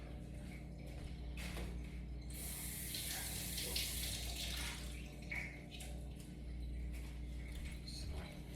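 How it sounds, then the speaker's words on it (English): Tap water runs steadily into a kitchen sink while raw meat is rinsed under it, a faint, continuous splashing with a brief louder gush partway through. "I always like just to rinse my meat off, just the outside of it."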